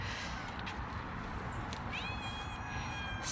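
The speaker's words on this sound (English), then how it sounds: "we have a kitty on a door." A kitten meows in a barnyard setting near a flock, a brief rising cry heard toward the end over steady outdoor background noise.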